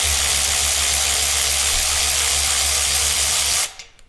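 A KIMO cordless electric ratchet runs steadily while loosening a bolt, a loud close motor whine with a constant buzzing drone that cuts off abruptly near the end.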